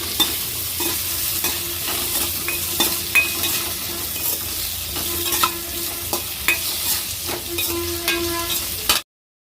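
Vegetables sizzle and crackle in a hot pan after tempering while a utensil scrapes and stirs in repeated strokes, close and steady, then cuts off abruptly.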